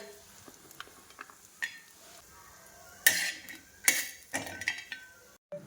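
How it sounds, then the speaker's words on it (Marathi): Shredded coconut dry-roasted in a pan for dubuk vade curry, heard as quiet scraping and stirring with a few sharp metallic clinks of a spoon against the pan, the brightest bursts a little past the middle. "त्यानंतर आपण खोबरे भाजून घेऊयात"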